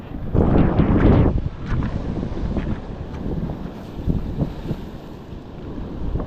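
Sea waves rumble and wash continuously on the Konkan coast at low water, partly buried under heavy gusting wind buffeting the microphone. No voices.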